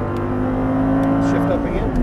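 An Audi R8 engine pulls hard under acceleration, a loud, close, sustained drone rising in pitch with a drop at an upshift, while people talk over it.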